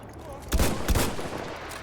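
Howell Automatic rifle firing in Battlefield 1 on the Sinai Desert map: two sharp, loud shots about a third of a second apart, each ringing out over a low background.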